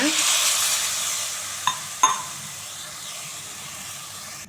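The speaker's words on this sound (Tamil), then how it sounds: "தண்ணி இப்போ நல்லா கொதிக்க ஆரம்பிச்சிச்சு" Water sizzles loudly in a hot pan as it starts to boil, a bright hissing that slowly fades, broken by two sharp clinks of a utensil.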